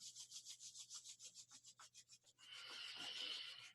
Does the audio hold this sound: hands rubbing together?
yes